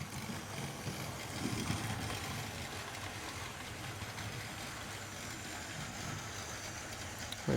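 A model railway pannier tank goods locomotive runs along the track with a steady low rumble and rattle, continuous and fairly quiet throughout, with no talk.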